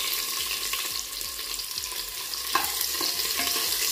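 Chopped onions fry over a low gas flame with cumin, cloves, cardamom and jaluk pepper for tomato rice. The sizzle is constant and close, with a rhythmic scrape of the spoon against the pan.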